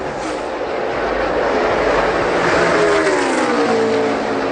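NASCAR Xfinity race cars roar down the front stretch at Indianapolis Motor Speedway, a loud sustained engine drone with rising and falling pitch as several cars pass close by.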